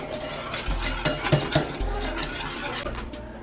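Food cooks in a heated pan at home dinner prep, with a steady low sizzle running throughout, broken by a few clinks and stirring knocks of a utensil against the pan near the middle.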